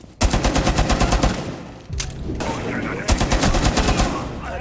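In the video game Rainbow Six Siege, a DP-27 light machine gun fires loud, rapid automatic bursts, two long strings of close shots with a brief pause between them and game noise underneath.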